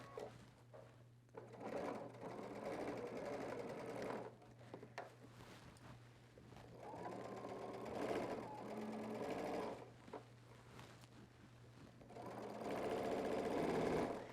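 A sewing machine stitches down a men's dress shirt placket, running in bursts of steady mechanical whirring separated by short pauses, fairly quiet and close, with no talking.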